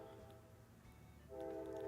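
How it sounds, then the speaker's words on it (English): Passing daily train sounding its horn, a low rail rumble that swells into a steady, sustained horn blast near the end, heard faintly and at a distance with no talking. "Oh, there's our daily train."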